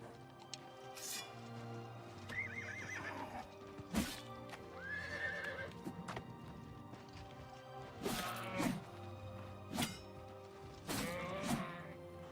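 Horse in the game Oblivion whinnies and neighs several times over a steady clip-clop of hooves, with background game ambience; calls come in bursts, fairly close and clear.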